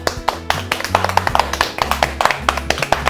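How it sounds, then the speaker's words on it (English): Hands clap repeatedly in an irregular rhythm while making homemade pasta from flour and eggs in a kitchen, a steady low tone running underneath. "Okay, now just clap."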